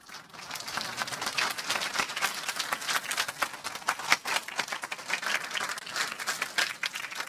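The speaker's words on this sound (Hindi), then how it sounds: "बजाना है तो ढंग से बजाओ ताली।" Sustained, dense applause from an audience at a Jain religious sermon during a youth convention in Gajpantha, steady and full throughout with no talking over it.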